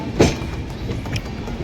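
A passenger train on the Duliajan to Namrup route runs along the rails with a steady rumbling clatter, heard from on board.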